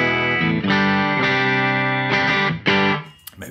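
An electric guitar played direct through an Ironball SE amp and a Torpedo Live sounds as a few loud, slightly gritty strummed chords, each ringing out before the next, with no talking.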